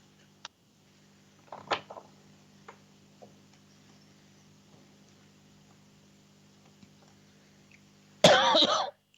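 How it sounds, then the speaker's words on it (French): A person coughs indoors, with a few faint throat sounds and small clicks over a low hum, then one loud, close, harsh cough burst near the end. "C'est toujours quand on arrive au soir que la toux, elle sort beaucoup plus"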